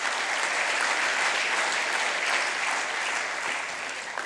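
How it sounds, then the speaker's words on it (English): An audience at a memorial lecture applauds steadily, a dense and even clatter of many hands that fills the room and tapers only slightly toward the end. "I hope we give a round of applause for this wonderful Indian."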